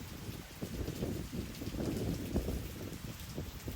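Rain falls on a stormy day, heard indoors from a kitchen as a soft, continuous patter with faint low rumbles, fairly quiet and steady, with no talking.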